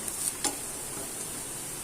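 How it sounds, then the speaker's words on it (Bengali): Garlic lightly frying in oil for a tomato and potato mash: a short, even sizzling hiss at moderate level, with one faint tap early on. "আমি এইভাবে রসুনটাকে একটু হালকা ভাজা দিয়ে নেব"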